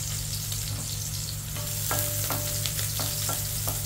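Bitter gourd and alamang (shrimp paste) frying in a pan, a steady close hiss with scattered sharper pops and spatters throughout, no voices.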